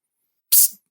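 A can of steak pressurized with CO2 pops open in a single sharp, bright hiss burst lasting a fraction of a second, loud and close in otherwise silence.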